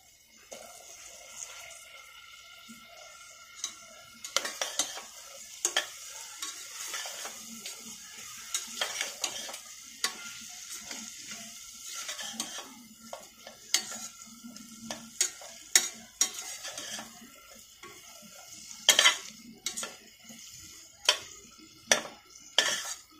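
Onion and tomato masala sautéing in a pan, a soft sizzle running beneath repeated scraping and stirring strokes of a spatula against the metal, with clinks and taps coming irregularly and growing sharper toward the end, no talking.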